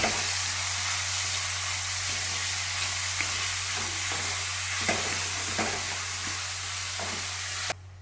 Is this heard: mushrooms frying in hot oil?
yes